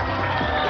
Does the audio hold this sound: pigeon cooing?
no